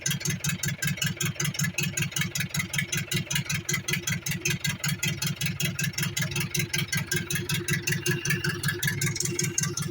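A small engine runs at a steady idle just after being started, with a fast regular low chugging pulse that stays loud and close throughout, with no talk over it.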